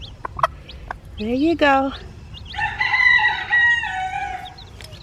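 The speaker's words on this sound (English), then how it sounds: "See that clucking sound? That calls them to eat." Backyard chickens cluck and a hen gives rising calls at feeding time, close and fairly loud, with a person briefly speaking at the start.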